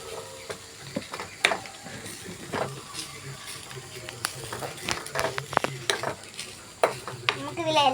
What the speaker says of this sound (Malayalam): ഇനി നമുക്കൊന്ന് നല്ലോണം ഇളക്കി കൊടുക്കാം